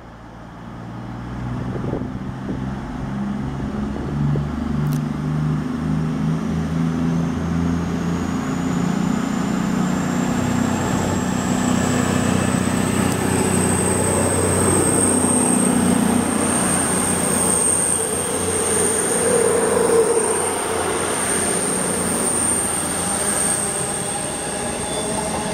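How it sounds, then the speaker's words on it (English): A CrossCountry Super Voyager train departs Kirkcaldy station, its diesel engine rumbling steadily as it pulls away with a rising whine and a high wheel squeal, loud and close throughout. "Now departing as a cross-country super voyager from Plymouth to Aberdeen."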